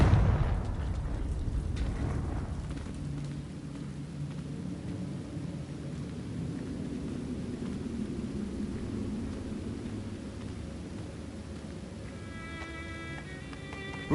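An explosive Confringo spell blast goes off in a video game on PS4, a loud booming detonation at the start that rolls into a long low rumble and fades under a faint tonal hum.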